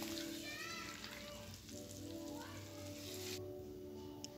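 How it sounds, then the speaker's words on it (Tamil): Boiled eggs sauté lightly in oil for a Chettinad egg gravy, a soft, close sizzle running under a voice, dropping away near the end. "இப்போ அதை லைட்டாக நம்ம இப்போ எண்ணெயிலேயே வதக்கி எடுத்துக்குவோம்"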